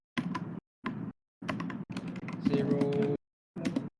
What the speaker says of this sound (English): Let's just type this.